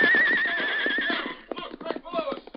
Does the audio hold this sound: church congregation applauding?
no